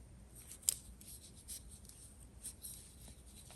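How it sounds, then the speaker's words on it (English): Scissors snip through red yarn during crocheting, a single quick, faint cut near the start, followed by soft handling rustles in a quiet room. "slip stitch, cut off the red, and then we're going to bring in the white"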